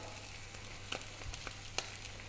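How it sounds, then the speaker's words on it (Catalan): Oil sizzles faintly in a pan as a seasoned ingredient fries slowly in a traditional Catalan restaurant kitchen, a soft steady hiss dotted with a few small pops and crackles. "Llavors el deixarem que es fregeixi poquet a poquet"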